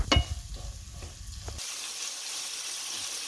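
Spices including coriander powder and salt fry in a pan for aloo gobi. A few brisk stirring scrapes come first, then an even, close sizzle continues alone.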